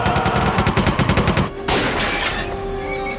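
Rapid gunfire from The Mummy (1999), a fast burst of loud automatic shots for about a second and a half, followed by a ringing, echoing tail and lingering noise.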